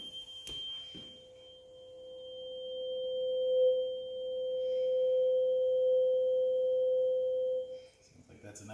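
A steady, pure hum rings from the resonating air column in a tube for several seconds in a resonance lab, with a brief knock at the start and faint talk at the end.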